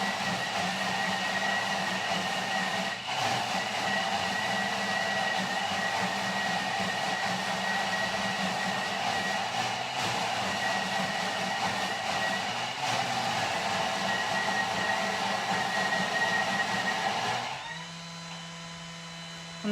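A Thermomix TM6 food processor cooks a chicken and mushroom pie filling with a steady loud mechanical whir and hum that holds throughout, then drops to a quieter tone near the end.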